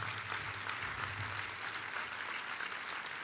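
A dense, steady wash of audience applause fills a gala awards ceremony for about three seconds, continuous and fairly even with no distinct voices rising above it.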